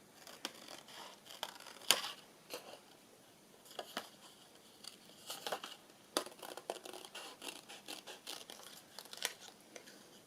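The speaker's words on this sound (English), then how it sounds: "Just going to cut around that" Scissors snipping around paper cutouts for a Christmas journal, soft irregular snips and crinkles up close and fairly quiet, with no talking.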